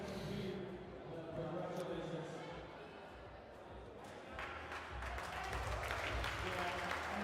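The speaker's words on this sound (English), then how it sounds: "the crowd is going crazy" Crowd cheering and yelling at an indoor bouldering competition, a continuous wash of applause and shouting that swells louder toward the end, with no pauses.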